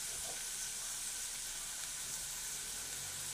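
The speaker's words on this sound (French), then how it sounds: "Là, mon beurre est quasiment fondu. Je mets mon poireau. Et là, on va le faire suer un peu." Leek sweating in almost-melted butter in a pan gives a steady, soft, even sizzle with a faint hiss throughout, with no voices over it.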